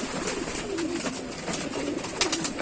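Pigeons cooing inside a loft near Tanta, Egypt, soft overlapping low coos rising and falling over a busy background of wing rustles and shuffling, close and steady throughout.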